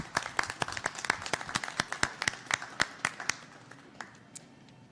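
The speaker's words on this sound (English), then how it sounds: "let's give him a big round of applause, please." Small crowd gives a round of applause for a grocery chain president at a public event, scattered distinct claps fairly distant and thinning out toward the end.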